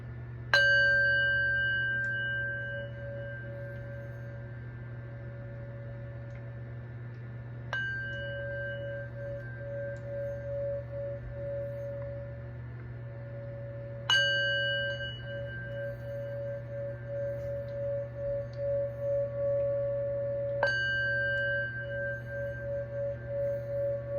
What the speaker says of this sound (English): of course, the sound bowl.